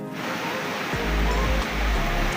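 Steady broadband rush of a river flowing beside a riverside glamping site in Loji, Karawang, loud and continuous with low rumbling surges, no voices.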